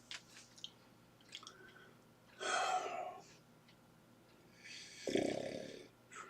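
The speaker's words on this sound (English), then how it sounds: "Last night he started snoring." A pet snoring indoors at night, faint and close, with a few scattered soft noises and then two longer rasping snore breaths separated by a quiet pause.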